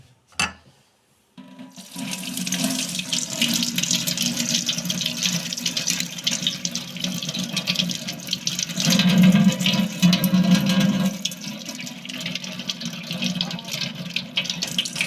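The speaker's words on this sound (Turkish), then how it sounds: "İlk önce yıkamakla işe başlayacağız." Tap water runs steadily into a sink as tomatoes are washed for making sun-dried tomatoes, a continuous loud splashing rush after a brief click and pause at the start, swelling slightly toward the middle.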